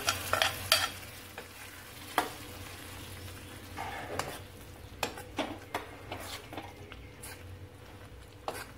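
Radish kootu poured into a pan of sautéed tomato and stirred. A low, continuous sizzle runs throughout. Scattered sharp clicks and scrapes of a spoon against the pan come in uneven bursts, close and fairly quiet, with no voices.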